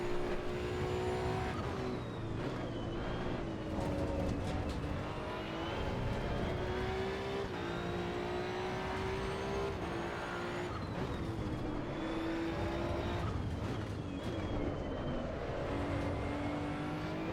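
A race car engine in the Assetto Corsa EVO video game drones steadily at high revs, rising and falling through gear changes and corners for the whole stretch, with no talking.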